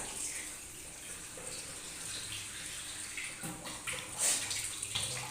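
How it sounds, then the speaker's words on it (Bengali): Water from a spice-rinsing bowl is poured into a lentil-fritter curry with aubergine and potato, giving a steady splashing, gushing flow up close that swells briefly toward the end. "মশলা ধোয়ার যে বাটির জলটা এখানে দিয়ে দিলাম, ঝোলের জন্য জল দিয়ে দিলাম।"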